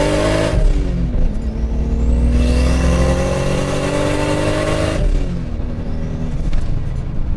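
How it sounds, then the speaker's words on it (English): A Lexus IS300 with a single S366 turbo 2JZ engine accelerates hard on a public road, loud rising engine and turbo roar climbing through gears, with a brief shift dip before pulling again, close and dominant. "my God, does the S366 sound good? It really just overpowers everything else that this car has going on."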